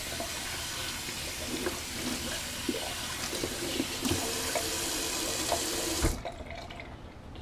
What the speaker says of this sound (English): Let me actually rinse this tub out real quick.